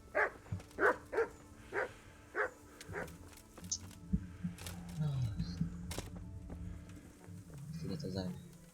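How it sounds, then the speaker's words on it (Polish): A dog barks in a quick series of sharp yips in the video game Kingdom Come: Deliverance, followed by rumbling ambient game sounds and faint shuffling. "Jest pies."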